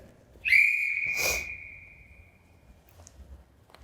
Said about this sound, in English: when the whistle goes, that's your cue to go